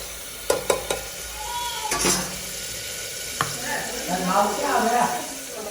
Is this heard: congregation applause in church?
no